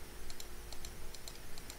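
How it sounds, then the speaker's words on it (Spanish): Computer mouse buttons clicked during work in image-analysis software, a series of short sharp clicks in closely spaced pairs repeating at a steady pace over a low hum, with no talk. "Le doy clic."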